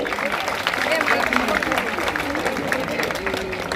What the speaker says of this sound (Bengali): সকলে একটু জোরে হাততালি